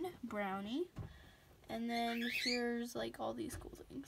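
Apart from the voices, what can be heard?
pet birds squawking in background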